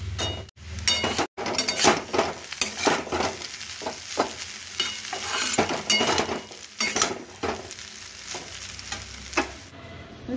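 Chow mein being stir-fried in a home kitchen pan, busy sizzling with repeated scraping and metallic clinks of the spatula, a brief sharp knock near the start; no speech.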